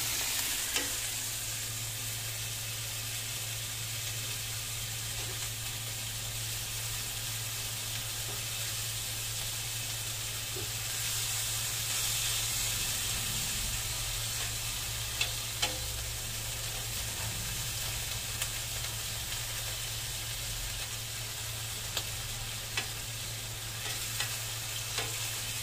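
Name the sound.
ground pork frying in hot oil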